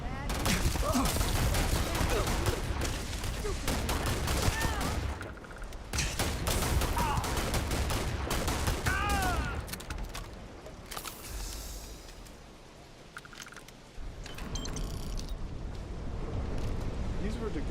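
Heavy enemy gunfire in Starfield's Watchtower DLC: dense, rapid bursts of shots rattle almost continuously, with a couple of short lulls, while a person talks over the shooting.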